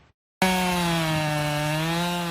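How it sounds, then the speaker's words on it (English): A chainsaw roars to life and runs at a steady, loud pitch while cutting down a 13.7-metre white spruce in Lunenburg County, Nova Scotia, close to the listener with no voices. "Another year, another roar of the chainsaw"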